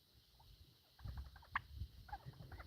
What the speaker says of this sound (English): Hear that cheep? That's a happy turkey noise.